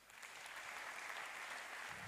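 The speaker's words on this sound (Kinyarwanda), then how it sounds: "Nimwikomere amashyi." Congregation applauding inside a church at a Rwandan Christian service, a steady dense wash of clapping that holds evenly for about two seconds with no voices over it.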